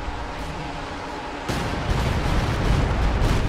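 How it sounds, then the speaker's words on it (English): Light artillery barrage and Stuka fire in a strategy video game rumble as a steady low roar that jumps louder halfway through, with dense overlapping booms and crackle. "plus light artillery barrage falling in the area, plus Stuka firing in the area"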